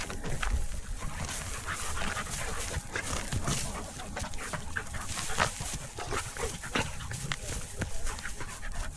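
A German Shepherd at a private campsite pants and huffs close by with scuffling movement, low growly breaths mixed with rustling over several seconds, while a person talks intermittently.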